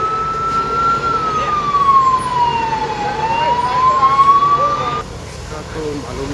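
A Mapusa fire team fire engine siren wails in a long, steady rise and fall as the truck arrives at a major hotel fire in Vagator, loud and close over a rumbling engine and crowd noise.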